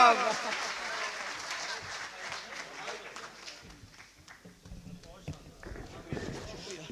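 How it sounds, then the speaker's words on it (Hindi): An audience at a poetry gathering, an all-India kavi sammelan and mushaira held by the Bar Association in Meerut, claps for a poet, loudest at first and then thinning into scattered, uneven claps. "भाई इरशाद बेताब जोरदार तालियों के बीच बुलाइएगा आप।"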